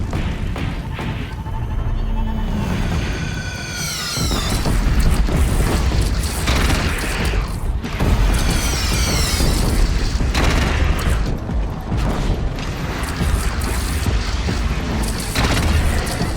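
Cannon fire and explosions in the Horizon Zero Dawn video game: a rapid barrage of heavy booms and thuds rolls on continuously, loud and dense, with whistling projectiles sweeping down in between.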